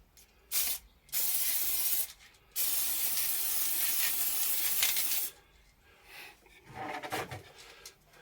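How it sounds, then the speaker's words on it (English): Light blue spray paint sprayed from an aerosol can onto a woodturning, loud close hissing bursts: a brief puff, then two long sustained sprays, followed by quieter rattling and handling noises. "a coat of paint, spray paint. I've got a light blue paint which I want to use"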